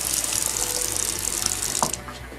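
A bathroom faucet with a clogged aerator runs water steadily and close by, with a hissing trickle throughout that thins out near the end.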